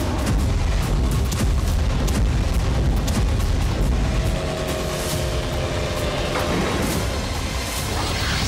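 Russian bombing attacks on Kharkiv and Poltava, heard as a dense, constant roar of rumbling blasts and crackling bursts, loud and unbroken throughout.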